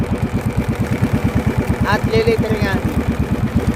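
A small fishing boat's engine idles with a fast, regular, chugging pulse, loud and close, holding steady while someone speaks briefly over it.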